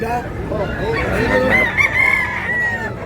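A fighting-cock rooster crows loud and close at a Tabunok, Talisay market in Cebu, one long drawn-out call over the murmur of the surrounding crowd.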